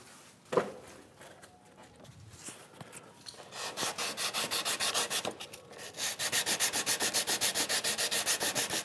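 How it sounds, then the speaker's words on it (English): Sandpaper rubbed by hand on a wooden workbench part, rounding over an edge: soft scratching that builds into steady, rhythmic back-and-forth strokes, close and fairly quiet, with no talking. "Sandpaper."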